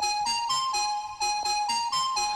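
A Serum synth whistle lead: a bright, pure, sustained melodic tone with rhythmic re-articulations and slight pitch slides, loud and alone without any voices.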